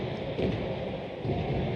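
Heavy rain pours over a football stadium during an evening match, with a low rumble of thunder under a steady wash of rainfall, distant and fairly faint.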